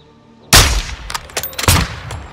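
Rifle shots ring out in Call of Duty: Modern Warfare II, two loud, sharp cracks about a second apart, each with a short rumbling echo and a few fainter reports in between.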